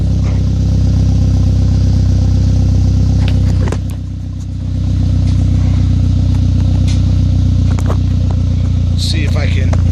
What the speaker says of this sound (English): Let's hear it exhaust for a little.